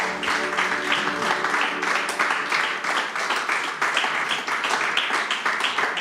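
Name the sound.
church congregation applause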